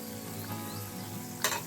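Steady, close sizzle of flattened-rice and egg fritters frying in oil in a wok, with a brief louder crackle and clatter near the end.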